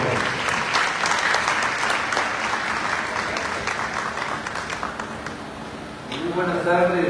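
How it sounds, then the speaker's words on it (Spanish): At an agreement signing ceremony in Tuxtla Gutiérrez, a crowd applauds loudly and continuously for a municipal president. The applause fades near the end as a voice begins speaking. "Fuerte aplauso."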